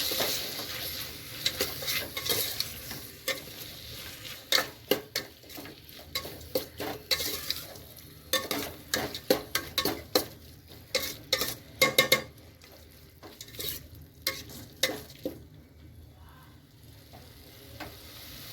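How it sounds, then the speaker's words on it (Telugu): Tomato mixture with turmeric powder being stirred in a frying pan, utensil scraping and clinking in steady repeated strokes over a soft sizzle, close and moderately loud with no talking. "కొంచెం టర్మరిక్ పౌడర్ యాడ్ చేసుకొని బాగా కలుపుకోవాలి."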